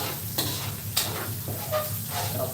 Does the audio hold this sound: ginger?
yes